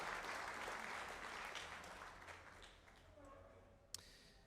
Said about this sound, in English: One more round of applause, everybody, for Bob and Darlene Sanders